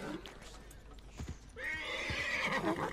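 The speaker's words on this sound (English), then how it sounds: "No, this horse does not calm down at all." A horse neighs loudly in Red Dead Redemption 2, a long shrill whinny rising after brief thumps and faint hoof clatter, close and clear.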